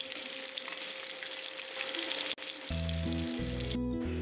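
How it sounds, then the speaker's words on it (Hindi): Soya chunks fry in hot oil with a steady, moderately loud sizzle, followed by a brief clatter and some louder stirring or scraping sounds near the end. "चलिए हम इसको अच्छे से फ्राई करते हैं"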